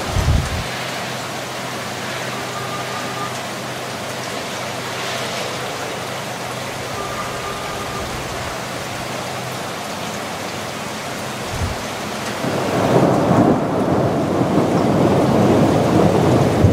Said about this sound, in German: Ja, ein bisschen Platzregen haben